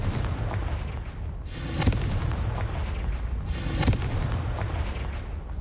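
Confringo fire spell in the Hogwarts Legacy video game, exploding twice in deep, booming bursts about two seconds apart over a low rumbling game backdrop, with no talking.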